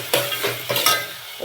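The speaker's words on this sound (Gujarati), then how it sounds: "અહીંયા બટેકા વઘારી દીધા છે" Potatoes sizzle in hot oil as they are tempered and stirred for batata poha, a close, loud frying hiss broken by several scraping stirs of the pan.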